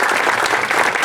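Crowd at an elementary school grand opening clapping for the principal and staff, a brief, dense burst of applause that fills the moment.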